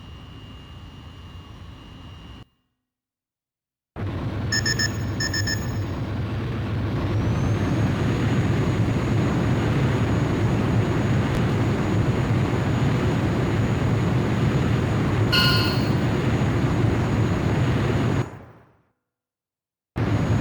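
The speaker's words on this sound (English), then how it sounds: "Antares, you're clear for takeoff." A fighter jet takes off in Ace Combat: Joint Assault on PSP, its engine roar building into a loud, steady rush that holds for several seconds, with abrupt silent gaps before and after.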